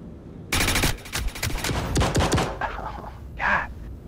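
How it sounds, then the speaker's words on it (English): A loud fusillade of rapid automatic shots in the Star Citizen Star Marine shooter mode rattles for about two seconds, then trails off into fainter scattered reports and a brief rushing burst. "Shooting some people in the face."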